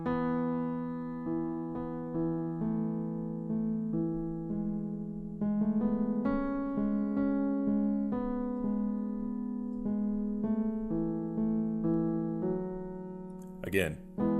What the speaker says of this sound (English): this theme is on an electric guitar